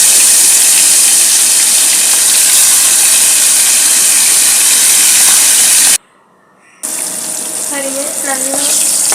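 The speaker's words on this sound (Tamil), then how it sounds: "முதல்ல கடல் எண்ணெய் ஊற்றி நம்ம மசாலா போட்டு வச்சுருந்த சிக்கனை அதில் போட்டு வறுக்க போகிறோம்" Masala-marinated chicken kebab pieces sizzle in hot oil with a loud, steady hiss that cuts out briefly, then returns with faint clinks.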